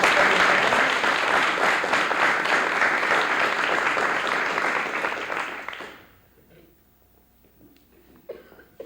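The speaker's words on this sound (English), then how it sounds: "Round of applause for McDonald's." Audience at a children's speech contest applauds loudly for about six seconds before the clapping stops abruptly, leaving a quiet room with a few faint stirrings and a cough.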